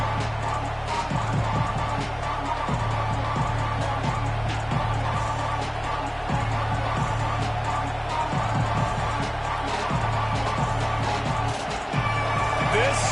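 A packed college football stadium crowd at a Texas versus Georgia game roars and cheers in a continuous, dense wash of noise around an opening offensive possession, with a commentator's voice running underneath.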